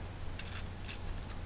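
A sticky note from a planner is torn in half by hand, giving a few short, dry papery rips over a low steady hum with no talking.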